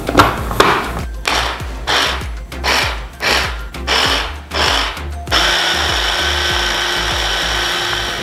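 A blender whirling jalapeno peppers, heard as several short loud pulsed bursts that then settle into one continuous whirring run, close and with no talking.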